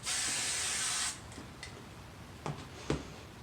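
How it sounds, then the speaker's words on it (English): A hairspray can sprays onto a steampunk high ponytail with an undercut, giving one steady, close hiss lasting about a second. Afterward it goes quiet apart from a few faint clicks. "And then I'll just hairspray all this."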